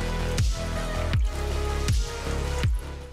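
Water drips steadily from a leaking homemade aquarium, four distinct, close, wet drops falling at an even rhythm, each a sharp plink over a constant background hum.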